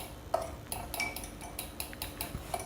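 Sour curd and salt are beaten in a bowl with a spoon, giving a run of close, light clinks and taps of metal on the bowl over a soft background hiss.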